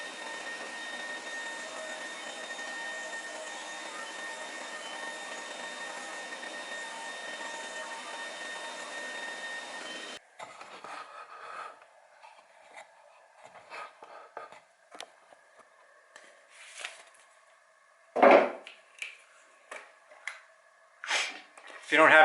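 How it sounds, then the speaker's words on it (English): A sander runs on a wooden circle cut with a router jig, giving a steady, humming motor drone for about ten seconds. It then stops and is followed by quieter handling knocks and scattered sounds. "Now we'll go over to the sander"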